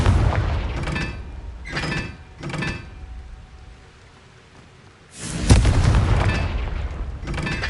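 Confringo fire-spell blasts in Hogwarts Legacy boom out in repeated bursts, three or four short detonations followed by a longer, louder rumbling explosion that lingers, with no talk.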